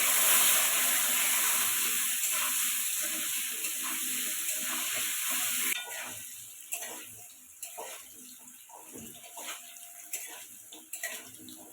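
Potatoes sprinkled with salt and turmeric frying in mustard oil in a wok, a loud, steady sizzle at first that drops to a quieter crackle with scattered pops.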